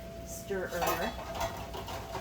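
Kitchen utensils clatter as a stirrer is pulled out in a tiny kitchen, a short close rummage of knocks and scrapes with faint talk beneath.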